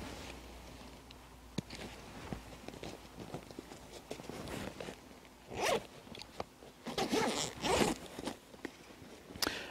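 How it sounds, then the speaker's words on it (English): The large main-compartment zipper of a 5.11 Tactical Rush 12 backpack is pulled open in several rasping strokes at close range, with light handling and rustling between pulls. "Again, a really large zipper, and as you can see again here, almost a clamshell type opening."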